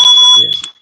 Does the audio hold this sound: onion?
no